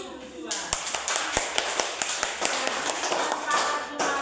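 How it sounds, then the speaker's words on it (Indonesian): Hands clapping in an elementary classroom as children applaud in pairs, sharp uneven claps repeating through the clip over a light background murmur. "Oke, tepuk tangan dulu berdua."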